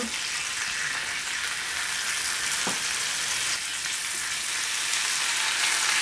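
Chicken fries skin side down in a pan, with a steady, close sizzle and crackle holding at even loudness throughout, plus an occasional small knock.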